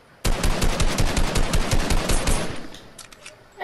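Rapid automatic gunfire from the Fortnite video game, a loud continuous burst of shots for about two seconds, then tailing off with a few scattered shots, no voices.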